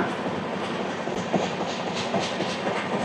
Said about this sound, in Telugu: దీని వెనకాల ఇంకొక ట్రైన్ ఉంది, మెమూ ట్రైన్.